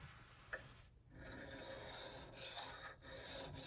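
A soft-steel knife forged from an old horseshoe is rubbed back and forth on a finer whetstone in steady rasping strokes, with brief pauses between passes, quiet and close.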